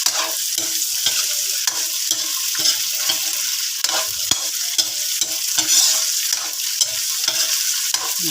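Tofu (tokwa) sautés in a pan with pork and bean sprouts, a continuous bright sizzle broken by repeated rhythmic scrapes and clinks of a spatula stirring, close and steady, with no voices.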